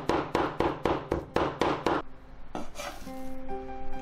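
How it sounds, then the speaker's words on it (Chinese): A cleaver chops beef into mince with seven loud, evenly spaced blows on a board, then lighter clatter and a faint tonal hum follow, with no talking. "牛肉先给它切碎一点，然后再来剁，这样叫精切细剁"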